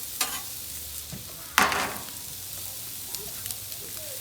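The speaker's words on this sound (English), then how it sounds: "Now we're gonna throw on our green peppers here. Get our green peppers going." Green peppers hit a hot Blackstone 28-inch griddle for cheesesteaks, giving a quiet sizzle with scraping and stirring clatter, one sharper burst of frying midway, then a low steady crackle.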